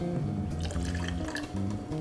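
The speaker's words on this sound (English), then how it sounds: "Some tangerine juice." Tangerine juice pours into a cocktail glass for a guava tangerine spritz, a soft, steady liquid trickle with light splashing, faint and close, with no talking over it.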